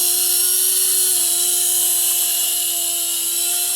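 A small LH-1211 mini helicopter rotor whines steadily at a high pitch during indoor flight, a thin buzzing drone that holds fairly even throughout, close by.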